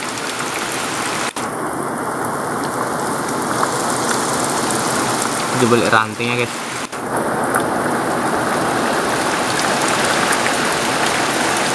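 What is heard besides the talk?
rain falling outdoors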